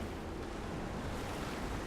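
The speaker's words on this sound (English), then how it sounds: "that has activated the water wheel" Steady rushing water from a turning water wheel in a cistern in the video game Rise of the Tomb Raider, a continuous broadband wash that holds at an even level throughout with no talk.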